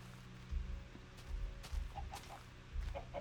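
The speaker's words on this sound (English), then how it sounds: "Hi, chicken." A Minecraft chicken clucks in a few short, soft bursts over a low, steady game background, faint and spaced out across a few seconds.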